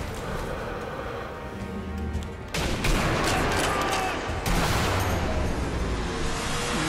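Heavy gunfire in Sniper Elite V2, a dense rolling barrage with sharp bursts and booming reports that swells louder partway through and stays intense to the end.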